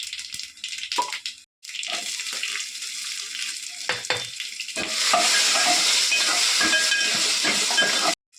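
Cumin, mustard seeds and asafoetida crackle and sizzle loudly in hot oil, with a few stirring clanks early on before a sustained hissing fry takes over.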